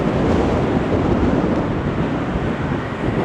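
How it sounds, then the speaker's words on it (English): Strong wind blasts along the Blackpool promenade, a loud, unbroken roar buffeting the microphone with constant low rumble and no pause. "with the wind being as strong as it is"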